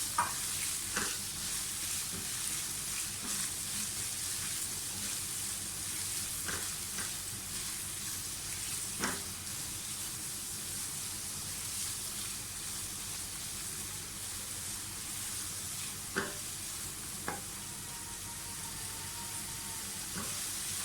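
Green chillies and chopped onions fry in a pan for noodles, giving a steady close sizzle throughout with occasional sharp clicks and scrapes from stirring.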